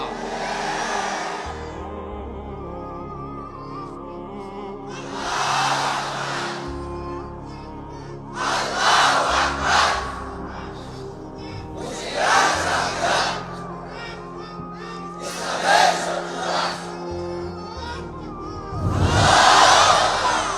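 A large crowd at an outdoor religious-political rally roars slogans back in repeated surging bursts, with loud swells of many voices that rise and fade between quieter stretches.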